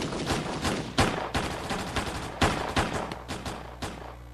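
Rapid bursts of gunfire for an audiobook scene of a shootout: a dense, loud fusillade of repeated sharp shots with sporadic heavier cracks, continuous throughout with no voices.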